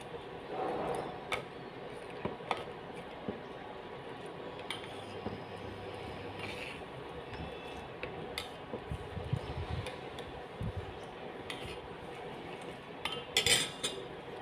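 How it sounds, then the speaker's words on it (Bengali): Boiled milk being stirred in a pot: soft scattered clinks and taps of a spoon against the metal over a quiet background, with no voices. "এবার ভালো করে নেড়ে উপরের সরটা দুধের সঙ্গে মিশিয়ে দেব।"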